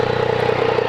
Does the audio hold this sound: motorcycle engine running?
yes